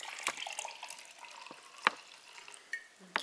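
A foaming, bubbly probiotic drink is poured, with soft liquid trickling, fizzing and a few sharper drips and clinks, quiet and close, with no speech.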